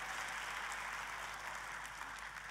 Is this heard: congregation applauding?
yes